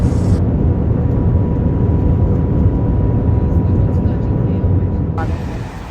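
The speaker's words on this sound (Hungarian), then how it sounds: "felülünk a Maglevre" The Shanghai Maglev train ride, a loud steady rushing roar of the high-speed train heard from inside the carriage, a constant broadband drone throughout.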